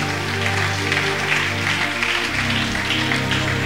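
Church congregation applauding and cheering in praise of God, a dense continuous clatter of clapping with a sustained low tone underneath, steady and fairly loud throughout.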